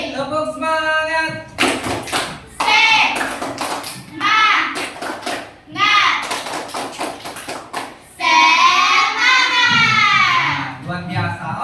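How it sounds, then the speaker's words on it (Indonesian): A school class does a rhythmic spirit clap, bursts of sharp hand claps in patterned groups alternating with children chanting together in unison, loud and close, with a final long shout. "Tepuk semangat."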